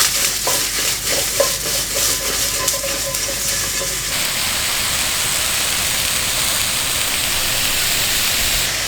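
Mushrooms with thyme and rosemary frying in a hot pan, a loud steady sizzle with stirring clatter early on, then continuous dense hiss to the end.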